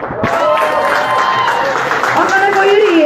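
An audience at the opening of a Samsung experience centre applauds a singer, steady clapping running through the whole moment while a host's voice carries over it.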